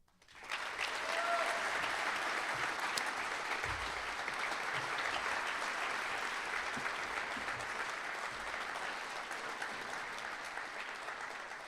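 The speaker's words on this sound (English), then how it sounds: "How about one more broad round of applause" Sustained applause from a large crowd at a school sports awards ceremony, steady clapping that swells quickly and holds for several seconds.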